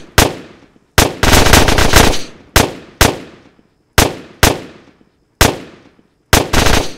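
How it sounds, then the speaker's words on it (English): AK rifle gunfire in the military shooter game Arma: Armed Assault: loud, sharp bursts and single shots come in irregular clusters, each with a ringing echo tail, and no one speaks. "We get shot at by AK"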